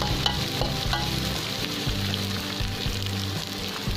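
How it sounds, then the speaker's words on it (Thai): Thai curry paste, pounded by hand, sizzles and pops while being stir-fried in a pan, a steady loud frying hiss with scraping stir strokes recurring throughout, no voices. "พริกแกงผัดเริ่มหอมแล้วใส่เนื้อลงไปเลย"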